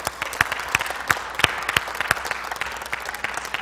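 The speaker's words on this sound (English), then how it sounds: "Let's give the Lord a big clap today, huh?" A church congregation claps in praise during a worship service, with sharp overlapping claps forming steady applause that stays fairly loud and close throughout.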